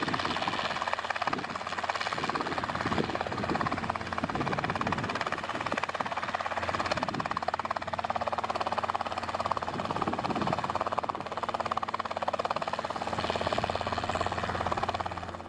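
A full-size helicopter hovers during a first flying lesson, its engine and rotor making a continuous, even drone throughout, heard close from inside the cabin with no talk over it.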